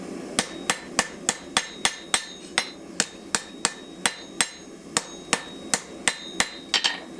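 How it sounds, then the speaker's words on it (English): A blacksmith hammers a curved steel knife blade straight, producing a brisk, regular series of bright, ringing metal-on-metal blows, close up and evenly spaced throughout with nothing else heard. "So when it curves over like this, just hammer it."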